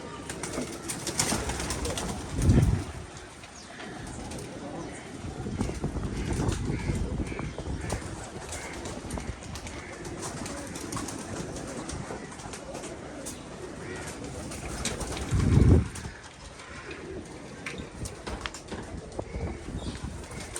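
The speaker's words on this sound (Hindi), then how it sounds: "ये है हमारे कबूतर" Male pigeons on a rooftop coo softly against a steady outdoor background, with two louder bursts like wing flaps or nearby movement.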